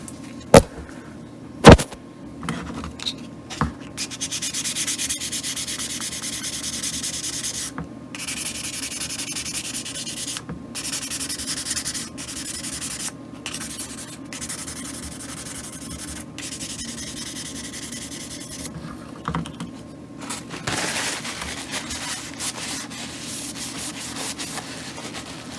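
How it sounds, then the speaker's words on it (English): Steady abrasive rubbing of wet-and-dry paper wet sanding resin goes on for about twenty-five seconds, with short pauses and a few sharp knocks early on, no voices. "So I'm just going to start sanding it a little bit"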